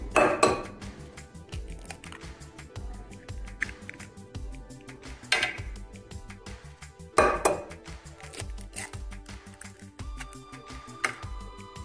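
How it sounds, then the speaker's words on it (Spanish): Four room-temperature large eggs going into a bowl one at a time for a flourless chocolate cake, a few sharp clinks and taps among dense clattering kitchen noise, close by with no speech. "vamos a necesitar 4 huevos a temperatura ambiente como ya saben. Entonces agregamos uno a uno."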